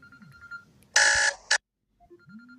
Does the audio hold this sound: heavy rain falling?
no